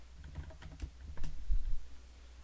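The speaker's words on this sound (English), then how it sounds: "I'm going to type my password in" Soft, close keystrokes as a password is typed on a computer keyboard, a handful of light taps in an uneven rhythm over a quiet background.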